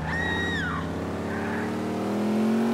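Steady car engine revving loudly in GTA IV, holding a constant drone with brief rising tire squeal near the start, close and continuous throughout.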